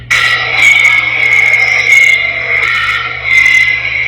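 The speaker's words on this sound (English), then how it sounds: "This Australian teddy bear has the vocal cords of Satan with acid reflux and a dying Honda Civic." Koala bellowing, a loud, rasping, grinding call that surges in repeated waves over a steady low hum, close and continuous.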